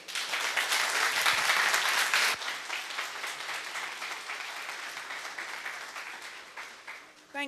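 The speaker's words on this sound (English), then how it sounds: "A warm round of applause for Alison Coward." An audience at an agile conference summit gives a warm round of applause for a speaker, loud dense clapping that peaks early and then tapers gradually, with a voice starting at the very end.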